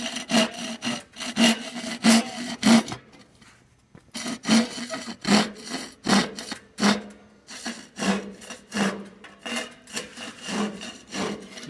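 A hand saw works through reclaimed, century-old Douglas fir once used for large tanks, in steady rhythmic rasping strokes close by, with one brief pause before the sawing resumes.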